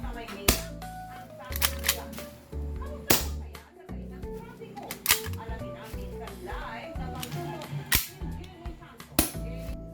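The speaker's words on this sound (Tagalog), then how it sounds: "Sa bubble wrap ko nga pala pinuputok para kahit paano mabawasan yung nililikang ingay" WE Kimber 1911 gas blowback airsoft pistol fired into bubble wrap at dusk, a series of sharp, loud cracking shots spaced irregularly about a second apart, with mechanical clacks between them.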